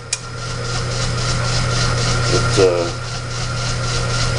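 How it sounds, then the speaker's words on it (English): A 1950 South Bend drill press runs with a steady low motor hum and faint rubbing as it drills through the top of a metal button cap screw, a constant drone with a brief scraping moment near the end. "My father's 1950 South Bend drill press."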